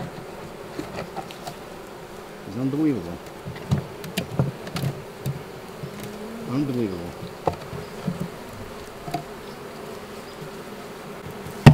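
Russian honey bees swarm around an opened hive during a fall honey harvest in Maine, making a dense, continuous buzzing hum close by, while a person briefly speaks over it.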